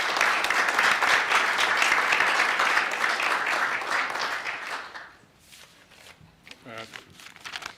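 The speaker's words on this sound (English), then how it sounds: "Let's give them a round of applause if we can." Applause breaks out for a family at a Cleveland police chief swearing-in ceremony, dense and steady for about five seconds before fading into scattered claps, light shuffling and a brief voice.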